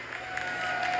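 Audience applause from a live crowd, a steady wash of clapping and light cheering holding at an even, fairly loud level throughout with no speech.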